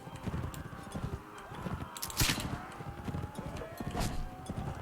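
Horse hooves pound rapidly in Mount & Blade With Fire and Sword, a busy galloping clatter mixed with battle noise and faint voices, moderately loud.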